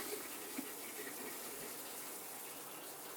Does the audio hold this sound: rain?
no